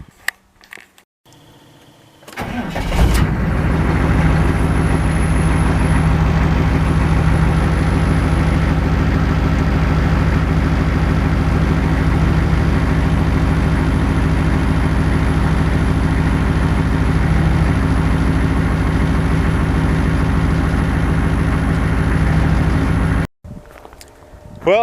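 A 1992 6.5 diesel truck engine cranks and fires, then settles into a steady, loud, close idle with a deep rumbling clatter for about twenty seconds before cutting off.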